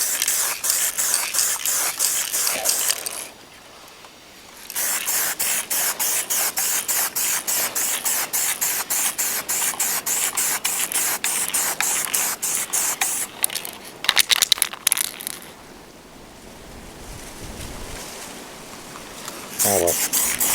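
Lacquer paint sprayed outdoors makes a loud, close, broadband hiss with a fine pulsing texture. It runs for long stretches, broken by a short pause near the start and a quieter lull later on.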